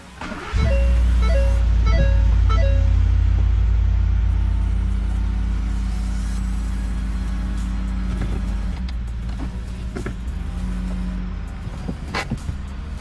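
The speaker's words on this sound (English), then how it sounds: "Now I'm going to try to start the truck and see if the SRS light will turn off." A 2016 Ford F-150 pickup, rebuilt after a wreck, cranks and fires up, settling into a loud, steady close-up engine rumble with a few clicks and knocks over the idle.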